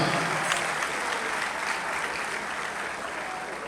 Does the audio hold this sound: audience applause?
yes